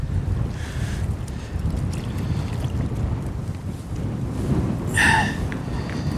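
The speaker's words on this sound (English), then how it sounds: "This wind is brutal." Strong wind buffets the microphone beside a river in Yellowstone during fly fishing, a continuous low, gusty rumble that swells toward the end, with a brief higher sound near the close.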